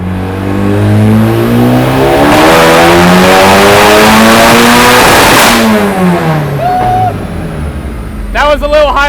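Turbocharged K24 engine in a Mazda Miata, revving hard on a dyno in a loud, rising pull that climbs steadily in pitch, then drops off as the throttle closes, with a brief chirp and whine near the end.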